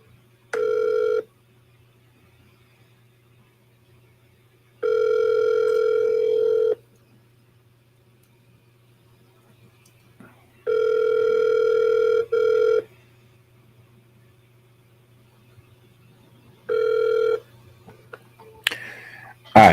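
Outgoing phone call ringback tone repeating in steady bursts of a couple of seconds separated by long silent gaps, a faint low hum underneath, ringing on unanswered until a brief click at the end.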